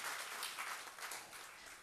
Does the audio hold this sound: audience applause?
yes